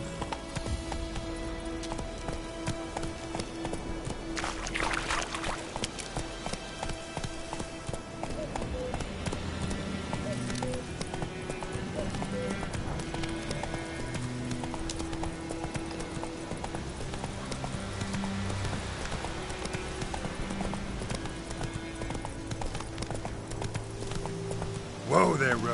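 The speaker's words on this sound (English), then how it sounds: "Whoa there, Roach." Horse hooves galloping in the Witcher 3 video game, a steady rapid clip-clop running throughout with a brief whinny, mixed under game music and ambience.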